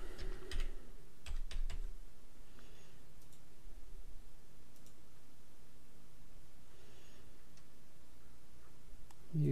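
Typing on a computer keyboard: quick bursts of light, close key clicks with short pauses between them, fairly faint, with no talking.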